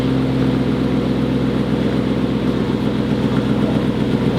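A Lamborghini Temerario idling after a cold start, a steady low engine drone with a constant hum, close and unbroken with no talking.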